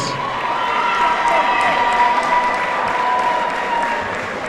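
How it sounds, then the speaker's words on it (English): A club boxing crowd in Farnworth applauds both fighters after a four-round bout, a dense, sustained wash of clapping and some cheering that holds steady throughout, with an announcer's voice running over it. "let's please show a round of applause for both boxers."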